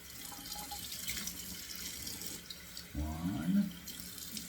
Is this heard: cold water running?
yes